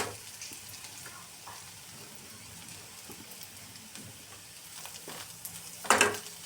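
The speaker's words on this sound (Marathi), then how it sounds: "भेंडी परतायला टाकल्यानंतर 5 मिनिटं झाकण ठेवून वाफवायची आणि नंतर 1-2-3 मिनिटं अशीच परतून घ्यायची" Okra stir-fried in a pan for stuffed bhindi, a soft sizzle under repeated spatula scrapes, with a louder clatter of stirring near the end.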